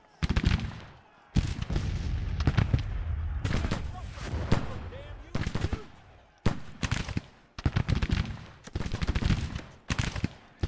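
Grand Tactician: The Civil War battle with volleys of musket gunfire and artillery booms crackling in repeated bursts, loud and dense with brief gaps between salvos.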